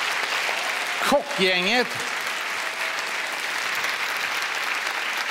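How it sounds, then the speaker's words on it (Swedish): Steady applause from the gala audience as the chefs come on stage, with a brief spoken word near the start and clapping continuing alone after it. "en applåd för dem"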